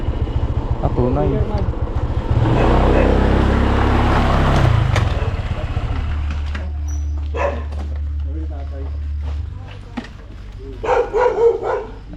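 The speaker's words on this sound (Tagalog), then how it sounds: "Laki ng aso, kagating ka oh." A large dog barks in short bursts near a vehicle engine idling, while people talk in Filipino close by.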